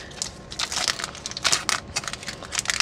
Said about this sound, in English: we are now on to our final pack here of these ever coveted Steam